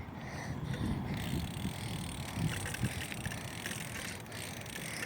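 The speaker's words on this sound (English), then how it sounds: "I'm on the bike again." A friend's bicycle being ridden outdoors, with steady wind rushing over the microphone and faint mechanical rattle throughout, plus a few brief bumps.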